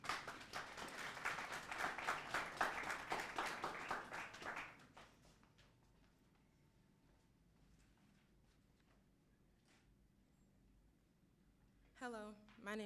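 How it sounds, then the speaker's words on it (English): An audience at a university speech and debate competition claps as a speaker walks to the stage. The dense applause lasts about five seconds, then drops to quiet room tone before a voice begins. "So let's applaud her as she comes to the stage."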